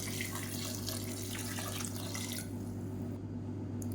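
Water pours steadily into a pot with a continuous rushing splash, then the flow thins out and quiets, over a low background hum.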